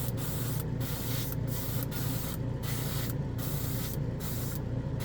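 Steady hiss of an aerosol can spraying chrome paint onto a gray plastic model kit part, continuous and close with a few brief pauses between bursts, no talking.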